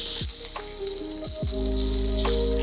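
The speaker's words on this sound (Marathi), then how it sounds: "मी एक आठ दहा मिरच्या घेतल्यात त्याला छान परतायच्या आहेत" Green chillies frying in oil in a pan, a steady close sizzle that swells louder partway through, with a few brief knocks and scrapes.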